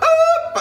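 A man imitates a hen's clucking with his mouth, producing a short, close, nasal squawking cluck that rises and then breaks off.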